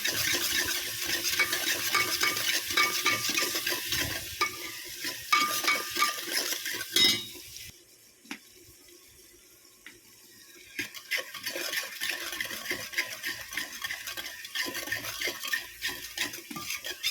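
Chopped tomatoes with salt being stirred in a pan, repeated clinks and scrapes of a spoon against the metal over a faint sizzle, pausing briefly near the middle before resuming.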